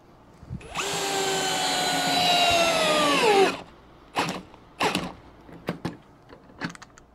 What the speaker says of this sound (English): All the drills will be in first gear.